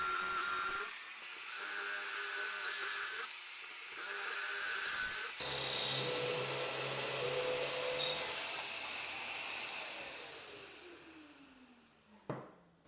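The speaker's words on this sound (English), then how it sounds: "I can't believe you're using a DeWalt drill while wearing a Milwaukee vest" A DeWalt power drill bores into wood during a beginner woodworking project, giving off a steady high motor whine that stops and restarts, then spins down at the end. The drill is heard alone with no voices.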